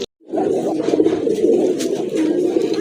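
Rajgolla fancy pigeons coo in a steady, continuous low murmur close by, the soft throaty calls overlapping without a break.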